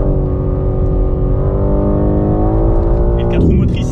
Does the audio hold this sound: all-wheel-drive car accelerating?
yes